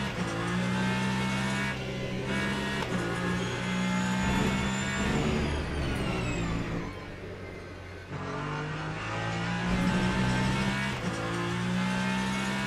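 A Ferrari race car in the Le Mans Ultimate racing game on the Interlagos circuit, its engine loud and continuous, with its pitch climbing and falling through gear shifts and a brief lift-off around the middle.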